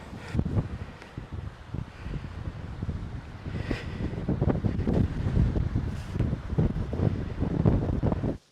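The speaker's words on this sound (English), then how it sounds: "So suddenly it got very, very, very windy." Strong wind buffets the microphone in a continuous, gusty roar that swells louder in the second half and cuts off abruptly at the end.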